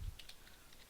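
Computer keyboard typing while a value is entered into a chart axis title in Excel: several quick, soft key clicks spread across under a second, close and fairly quiet.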